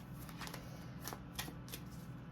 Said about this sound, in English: I'm going to give them like 2 more shuffles and that's it